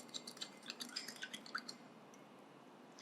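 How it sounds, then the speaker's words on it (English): Salt stirred into a glass of water gives light clinks and tinkles of a spoon against glass, a quick irregular run of small taps that fades to quiet near the end. "Now, I'll put little salt in the water."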